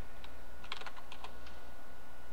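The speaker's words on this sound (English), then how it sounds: "type in display." Several quick keystrokes on a computer keyboard while configuring Skyrim on a PC, light clicky taps in a short irregular cluster over a steady low hum.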